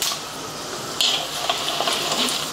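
Urad dal, chana dal, mustard seeds and cumin hit hot oil for a tempering, giving a continuous close sizzle with scattered small pops and crackles and no talk.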